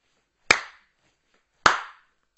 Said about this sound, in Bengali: এবার চলো আবারও হাততালি দিই।